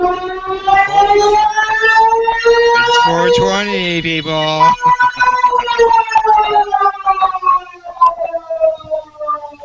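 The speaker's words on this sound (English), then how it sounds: "He's got an old air raid siren." An old air raid siren wails loudly at an outdoor hemp festival in Northern Ontario, its rising and falling tone sweeping up and down while someone talks over it and crowd noise carries in the background.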